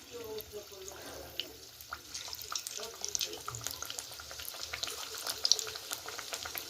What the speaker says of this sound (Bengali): কড়াই তেলটা আমার গরম হয়ে গেছে এবার আমি এগুলোকে ছেড়ে দিচ্ছি এক এক করে